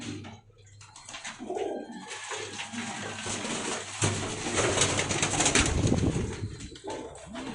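Pakistani breeding pigeons held by their keeper coo and call at close range, with occasional wing flaps and faint chirps over a steady low background hum.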